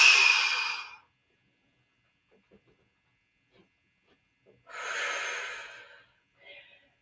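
Strong exhaled breaths during a tibialis workout on a stool, two long breathy exhalations separated by quiet, followed by a shorter puff of breath.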